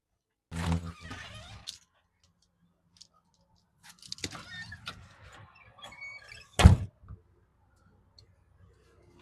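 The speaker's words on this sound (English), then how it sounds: "Garage door closed." A garage door closes in scattered bursts of rattling and scraping, with a sharp, heavy clunk near the end. The sounds are close, separated by quiet gaps, and no one talks.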